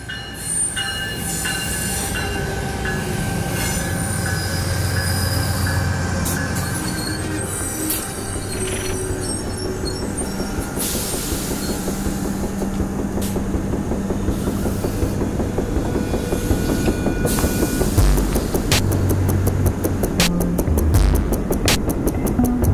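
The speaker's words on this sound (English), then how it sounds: "I think the train's coming soon." A train rolls past on rails at a station, a loud, steady rumble with squealing wheels and rhythmic clattering that builds toward the end of a long pass.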